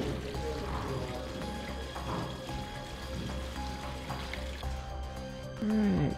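Water rushes through plumbing as tanks fill, a steady flowing and pouring wash with faint trickles, moderately loud and continuous throughout.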